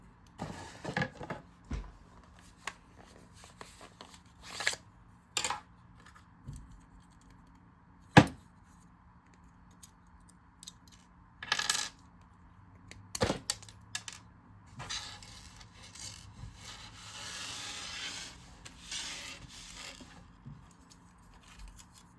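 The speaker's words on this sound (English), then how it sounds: "get these screws out" Small screws come out of an optical mouse one by one: sparse, faint clicks and scrapes of a screwdriver and plastic, with quiet rustling in between and no speech.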